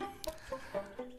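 A chicken clucking nearby in a short burst of three or four quiet, evenly spaced clucks.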